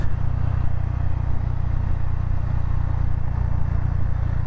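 Steady idle of a 2025 Honda GB350S single-cylinder motorcycle engine, a smooth low throbbing hum that stays constant and close with no revving or talk.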